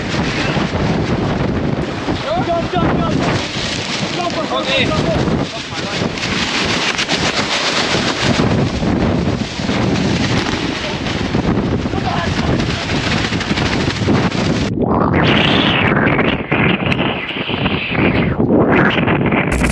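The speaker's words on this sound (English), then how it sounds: "Rain poured down, strong winds rose, and the current pushed the boat toward dangerous rapids." Loud, constant wind roars and buffets close to the microphone with a rushing river beneath, shifting in tone near the end; no clear rain patter stands out.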